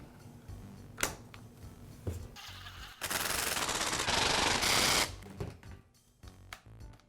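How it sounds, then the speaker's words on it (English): Hand work reinstalling the plastic side cover on an Echo string trimmer: sharp clicks and knocks of parts snapping together, then a dense two-second burst of rapid ratcheting or screw-driving, followed by more scattered taps. "And I'll finish by reinstalling the side cover."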